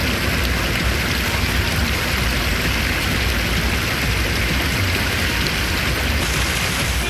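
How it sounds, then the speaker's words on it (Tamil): Rain falls steadily around Kovilpatti in Tamil Nadu, a dense, loud, even hiss of drops on surfaces that continues without a break and with no voices. "இலுப்பையூரணி உள்ளிட்ட இடங்களில் மழை பெய்தது"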